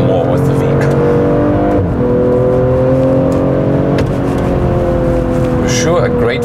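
A BMW 3 Series sedan, an M Sport or M340i xDrive, drives and accelerates with a loud engine note whose tones climb and shift across gear changes, while a voice talks over it.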